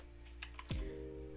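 A few light keystrokes on a computer keyboard while entering an IP address for a Cisco switch configuration, close and brief, with a steady low hum underneath.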